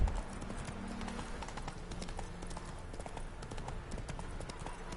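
Rhythmic clip-clop of horse hooves in a fantasy role-playing game, steady trotting over a constant ambient bed with no speech.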